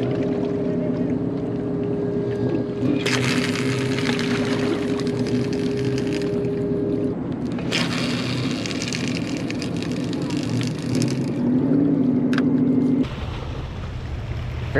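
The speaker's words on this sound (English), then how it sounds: "Got a crew boat over here at the Kim Trans Polaris, this tanker that was in front of us yesterday" Crew boat motoring on a river beside the tanker Kim Trans Polaris: a steady engine drone and rushing water with wind buffeting, loud and constant throughout, and a voice talking over it.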